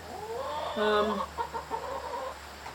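Hens cluck inside a wooden chicken coop, several short harmonic calls overlapping at close range against a steady low background hum, with a brief louder burst of clucking near the start.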